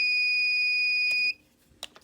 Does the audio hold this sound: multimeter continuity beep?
yes